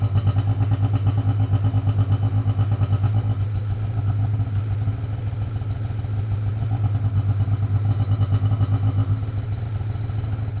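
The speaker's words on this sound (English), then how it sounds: "here's where you're going to see the tone change on the machine when it recalibrates these valves" Polaris AXYS 800 snowmobile engine running steadily during an exhaust valve recalibration, a loud continuous mid-pitched drone with a slight shift in tone partway through, no talking.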